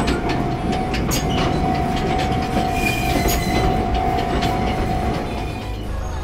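A train rumbles past at close range beside Shichirigahama station in Kamakura, Japan, giving a loud continuous roll with rhythmic clickety-clack of wheels on rails and a faint squeal, with no voices.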